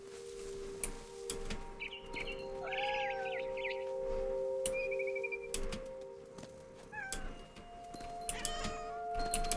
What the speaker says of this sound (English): 야옹거리는 것 봐. 너무 귀엽다.